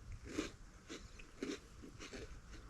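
A crunchy petit beurre biscuit being bitten and chewed close up, several quiet crisp crunches at an irregular pace over a few seconds, no talking.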